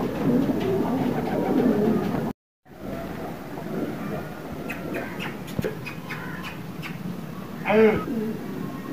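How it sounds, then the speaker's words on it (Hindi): Pigeons coo softly in the background amid steady ambient noise, with a brief dropout early on and a clearer cooing call near the end. "ये सब कबूतर आ गए हैं दोस्तों।"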